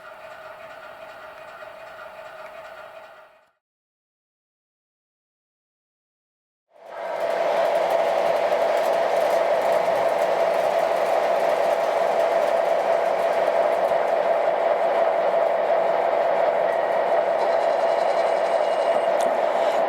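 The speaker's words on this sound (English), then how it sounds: "We just finished running 3 trains." Steady rolling rumble and clatter of MTH model trains running on a track loop, starting, dropping to silence for a few seconds, then resuming continuously and close.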